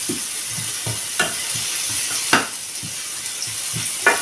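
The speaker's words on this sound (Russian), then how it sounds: "О, зашипело. Слышите, да?" Steady sizzling and frying hiss from a pan, with occasional soft scrapes and clinks of stirring throughout.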